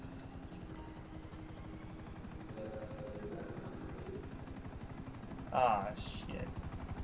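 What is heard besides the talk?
helicopter in a video game, GTA 5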